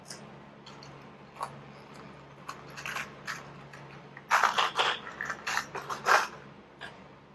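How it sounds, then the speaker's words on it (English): Riveting a homemade wheeled mop bucket, with a series of sharp mechanical clicks and crunches from the rivet tool, sparse at first and then denser and louder, close by. "I'm going to go ahead and put some rivets in here."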